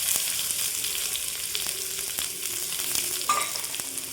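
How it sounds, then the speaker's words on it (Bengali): Onion with crushed garlic fries in a pan for a Bengali bottle gourd leaf mash, producing a close, strong sizzle with some stirring scrapes and no voices. "পেঁয়াজটা একটু লাল লাল করে ভেজে নেবো"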